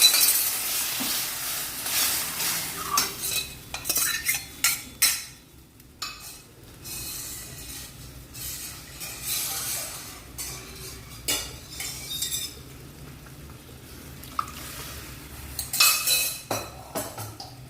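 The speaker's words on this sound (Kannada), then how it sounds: "ಈಗ ಇಲ್ಲಿ ಬೆಳ್ಳುಳ್ಳಿನ ಹಾಕ್ಕೊಳ್ತೀನಿ ಕರ್ಬೇವು ಸೊಪ್ಪನ್ನು ಜೊತೆಗೇನೆ ಹಾಕ್ಕೊಳ್ತೀನಿ ಈ ಥರ ಚೆನ್ನಾಗಿ ಫ್ರೈ ಆದ ನಂತರ" Garlic and curry leaves are fried in a pan while a utensil stirs and scrapes against the metal, producing intermittent clinks and clatters over a soft background sizzle, close at hand.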